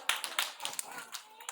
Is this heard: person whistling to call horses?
no